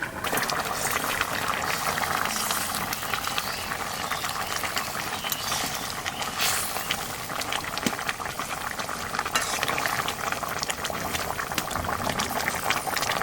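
Hilsa fish curry with green banana bubbling steadily in a pot, a continuous close boil of wet, busy bubbling that runs unbroken with no one speaking.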